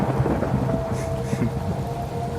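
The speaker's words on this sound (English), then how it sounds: "Lightning flashed, and Timothy swore he saw the shape of a person" A thunder sound effect in a scary story told around a campfire: a deep, continuous rumble with rain-like hiss, loud and close throughout, with no voice over it.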